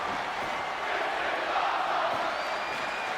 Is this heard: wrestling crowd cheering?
yes